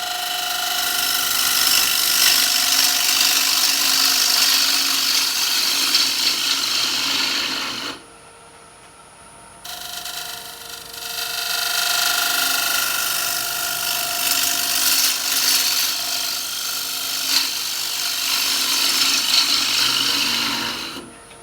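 A woodturning gouge cuts the inside of a wooden bowl spinning on a lathe, a loud continuous rasping hiss that drops away for about two seconds midway, then resumes at full strength.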